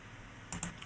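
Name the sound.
pressing the D key on a computer keyboard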